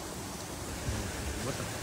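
Water rushes over rocks at Sundari Jal, a steady, faint, broadband hiss of flow heard alone for a short moment.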